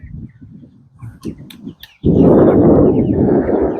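Young laying-breed chicks just moved from a brooder into a temporary layer tractor outdoors chirp in brief scattered peeps, then a loud dense flock chorus of continuous cheeping swells in and holds.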